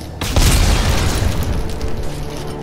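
A heavy launcher blast in the co-op horror shooter Dead Space 3: one loud, close boom with a sharp onset and a long rumbling decay that fills the whole clip.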